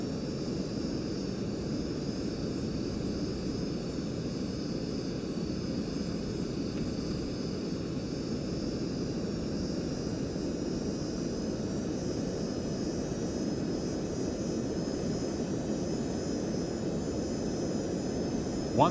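An airliner with throttles at idle descends toward landing in a home cockpit flight simulator, giving a steady, unbroken jet engine drone with a thin high whine and no talk.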